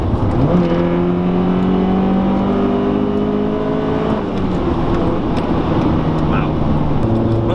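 A Honda Prelude VTEC engine with an aftermarket DC Sports exhaust rumbles steadily with a deep, throaty exhaust note, revving up and settling as it idles nearby.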